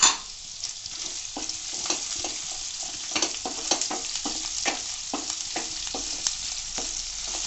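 Ginger, garlic and green chili sautéing in a pan, a steady crackling sizzle with scattered pops and stirring scrapes throughout, close and moderate in level.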